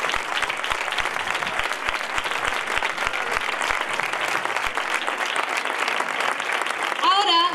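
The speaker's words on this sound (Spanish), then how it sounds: "Un fuerte aplauso para todas ellas" A dense round of crowd applause at the Facinas fair coronation honours the queen and her court, sustained and even, with low thuds near the start and a brief tonal sound at the end.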